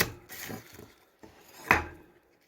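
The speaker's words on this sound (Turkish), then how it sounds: "Sarımsağımızı şöyle ortadan kesersek" A few short knife chops and taps on a wooden board as a garlic clove is cut in half, quiet and close, with one sharper crunch near the end.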